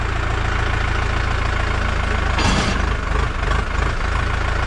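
A 50 hp tractor engine idles steadily and loudly up close while its hydraulics raise a mounted 2.6 m cultivator, a continuous low rumble with slight wavering toward the end.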